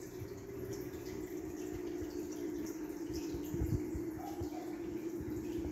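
Steady running water fills an aquarium tank of mollies during a water change, a continuous splashing pour heard close by with no one speaking.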